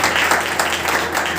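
A church congregation claps to welcome a pastor, a short burst of dense, even applause from many people in a room.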